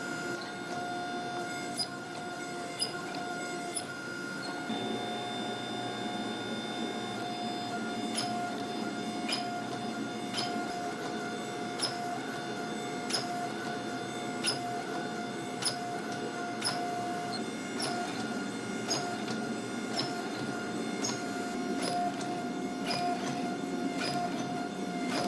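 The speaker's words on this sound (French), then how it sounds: "j'exerce une pression égale sur les 4 pièces, assurant une soudure à la forge solide" A hydraulic press with square dies forge welds a Damascus billet. It makes a steady mechanical hum with a sustained tonal whine, broken by regular sharp metallic ticks.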